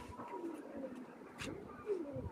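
Madrasi pigeons coo softly at an outdoor pigeon flying show in Bangladesh, with a few faint, low, rolling coos spread across a quiet background.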